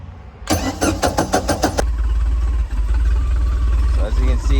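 A 1988 StingRay Supersport boat engine with a faulty choke cranks in a quick series of bursts, catches, and settles into a loud, steady, slightly uneven rough idle close by.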